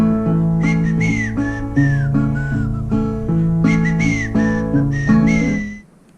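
A clear, melodic whistled tune with bending notes, played over a steady instrumental backing of bass and chords, ending with a quick fade.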